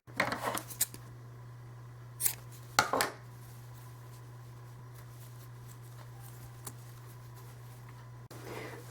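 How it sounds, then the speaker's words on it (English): Scissors snip crochet thread in a few quick, faint cuts near the start and around the three-second mark, close by over a steady low hum, then near silence. "And at this point, I'm ready to cut the thread."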